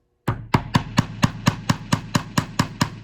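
A hammer taps a nail into a string art board in a steady series of about thirteen sharp, evenly spaced strikes, close and clear with no talking.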